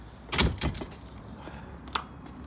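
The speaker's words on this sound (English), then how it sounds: "let's get the door shut" A door is shut after an electric folding wheelchair is wheeled out, giving a few quick knocking thuds followed by a single sharper latch click a moment later, fairly quiet and close.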